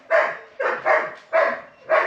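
Dogs bark outside in four sharp, fairly close barks at an uneven rhythm, each one clear and alone with no talk.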